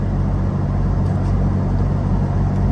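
Steady interior road noise inside a moving car, a constant low engine and tire drone with no gaps, fairly loud and close.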